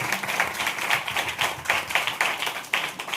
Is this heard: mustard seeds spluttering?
no